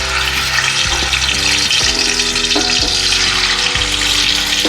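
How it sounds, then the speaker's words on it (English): Chicken goes into hot ghee and oil over a high flame, giving a loud, steady, close sizzle that holds throughout with no talk. "now let's put the chicken into this oil"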